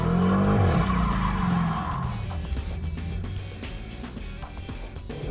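A 2009 Dodge Challenger muscle car pulls away, its engine revving loudly then settling into a steady drive-off rumble up close, with no talk.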